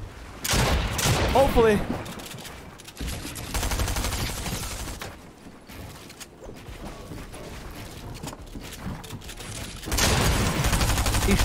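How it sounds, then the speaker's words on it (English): Gunfire in a bounty-hunting shooter video game, with dense bursts of rapid shots, booms and mechanical clatter throughout, loud and close, while a player speaks briefly. "I'm hearing shots."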